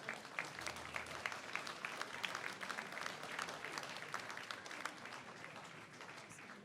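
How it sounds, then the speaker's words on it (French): Audience applause at a town's 2023 New Year's greetings ceremony for residents in Biganos, steady dense clapping filling the room throughout, fairly distant and even. "Vous pouvez les applaudir."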